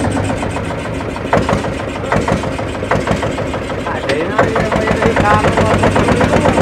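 A boat's engine idles with a steady low rumble throughout, with chattering mechanical knocks and people talking over it nearby.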